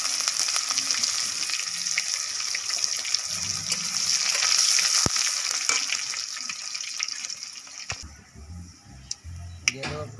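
Mustard seeds, cumin, dried red chillies, curry leaves and garlic sizzle and crackle in hot oil for a sambar, a steady bright hiss with sharp pops and a brief lull near the end.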